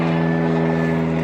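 A propeller airplane drones overhead, a steady continuous engine hum with strong low tonal bands, fairly loud and alone with no talk, heard outdoors while rare banana varieties are being planted.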